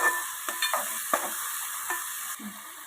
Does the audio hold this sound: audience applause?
no